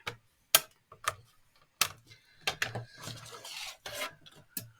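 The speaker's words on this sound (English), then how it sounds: "we're just going to fold and burnish." Card paper is folded and burnished by hand for a Christmas card, producing close, soft rubbing and scraping strokes with sharp crackles and taps in an irregular rhythm, alone in a quiet room.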